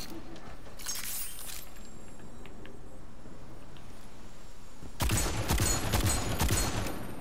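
Gunfire in the shooter game Destiny 2 comes as a brief burst of rapid shots early on, then a quiet stretch, then a louder sustained volley of cracking shots near the end, with players talking faintly in between.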